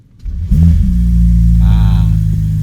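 A Ferrari 849 Testarossa's 4.0-litre twin-turbo V8 cranks and fires up, jumping into a loud, close, steady idle rumble with a brief rev swell partway through.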